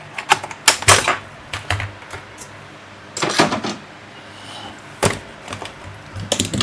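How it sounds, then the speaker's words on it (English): Keyboard being pried out of a Dell Inspiron 5537 laptop during disassembly: bursts of sharp plastic clicks and snaps in clusters, with quieter handling rustle between them, close up and with no talking. "Now removing the keyboard."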